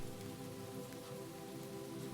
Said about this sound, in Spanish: el murmullo de la lluvia